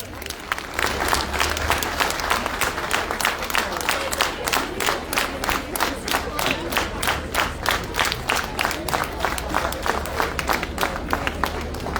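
A large rally crowd in Gyumri, Armenia, bursts into sustained applause, rhythmic clapping running steadily throughout with a dense outdoor wash of cheering voices and crowd noise underneath.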